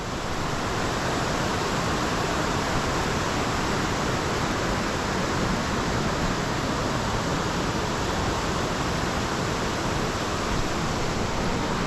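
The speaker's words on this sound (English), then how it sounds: "this creek has got a lot of water in it today, more than usual" A fast-flowing Appalachian mountain trout creek running high in early summer gives off a loud, steady, broadband rush of water, close and unbroken for about twelve seconds with no voices.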